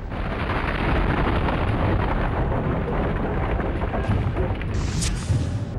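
An asteroid impact explosion rendered as a sound effect: a heavy, continuous rumbling roar that stays loud and dense for several seconds, with no voices present.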